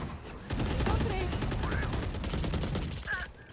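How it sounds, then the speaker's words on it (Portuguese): Rapid gunfire from many weapons in the tactical shooter game Valorant, dense overlapping shots and bursts filling the clip with a busy, loud crackle. "Meu Deus, o tanto de gente dando um tiro."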